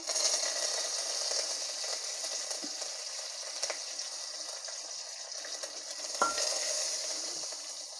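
Garlic and curry leaves sizzle steadily in hot oil, a bright continuous crackle with a few sharp pops and the scrape of stirring, close up and with no voices.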